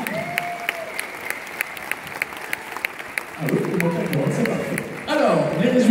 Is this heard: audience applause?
yes